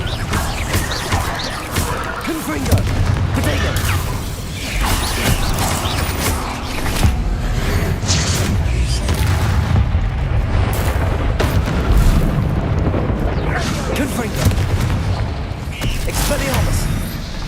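Repeated Confringo blast spell explosions in the Hogwarts Legacy video game during a fight, heavy booms and crashes rumbling continuously over game music and effects.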